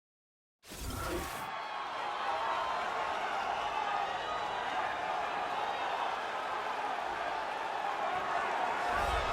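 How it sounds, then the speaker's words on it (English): Arena crowd roaring in the UFC 3 video game as a flyweight fighter walks out to the octagon, a loud sustained wall of cheering that swells in abruptly and holds steady without a break. "the crowd pops as this guy makes the walk to the octagon"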